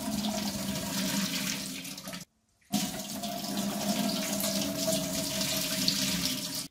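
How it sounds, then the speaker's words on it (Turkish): Water pours steadily from jars of green olives being drained, a continuous splashing flow with one brief break before it resumes, close and fairly loud with no talk. "Şimdi şu diğer konservelerimizi de güzelce süzelim."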